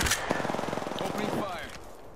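Rapid automatic gunfire in a shooter video game, a fast burst of evenly spaced shots that keeps going for about a second and a half before trailing off, with game voice chatter mixed underneath.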